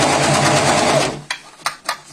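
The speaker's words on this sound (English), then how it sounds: "We're just going to overlock straight down this edge." An overlocker sewing machine stitches down a fabric edge in a loud, rapid, steady mechanical chatter lasting about a second, then stops, followed by a few soft clicks and handling noises.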